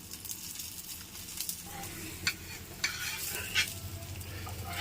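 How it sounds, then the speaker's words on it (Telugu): A dosa cooks in oil on a pan with a soft, steady sizzle, broken by a few sharp scraping or tapping sounds close by. "ఇలా మనం దోశ వేసేసుకొని ఆయిల్ వేసుకొని కాస్త కాలనివ్వాలండి"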